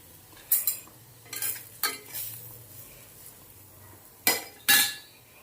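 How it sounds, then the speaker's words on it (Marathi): A spoon scrapes and clinks through bitter gourd and jaggery in a pan, in short separate bursts of stirring with quiet pauses between them and no talking. "एकत्र करून घेऊया आणि थोडासा आपण गूळ टाकूया त्यामध्ये"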